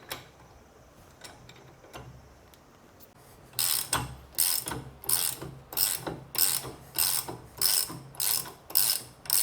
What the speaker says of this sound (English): it loosens relatively easy with a long breaker bar